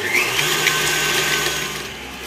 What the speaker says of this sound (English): Next I'm going to pour the sugar with the egg yolks. And we're going to beat them together until it becomes a little pale.